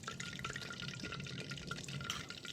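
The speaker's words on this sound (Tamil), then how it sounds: "இந்த பலகாரங்களை நம்ம எடுத்து வச்சுருக்கிற மாவில் துவச்சி எண்ணெயில் சேர்க்க போகிறேன்." Battered snacks coated in a nutritious flour mix sizzle steadily in hot coconut oil in a village kitchen, a dense, continuous crackle and bubbling with no talk.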